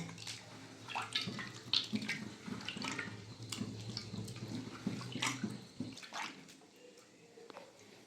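Soaked tamarind, mashed into water, poured into a pan of simmering fish-roe sour curry with dried chilli and five-spice, giving a soft close splashing and trickling that ends abruptly, followed by quieter kitchen noise.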